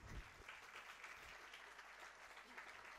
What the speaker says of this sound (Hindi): इसलिए इन तालियों को बजाने वाले तो बजाने दीजिए